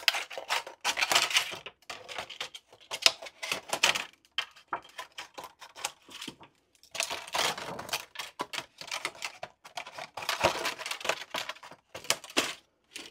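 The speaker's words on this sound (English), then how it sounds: "I'm going to cut the flat portion of this plastic" Scissors cut flat plastic in a quilting workspace, producing close, crisp snips and crackles that come in clustered bursts with short pauses between them, with no talking.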